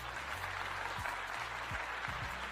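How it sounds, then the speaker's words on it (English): Applause plays as a sound effect: a steady, fairly faint wash of clapping continues throughout, with a low hum and a few short low tones underneath. "I gotta give her a clap."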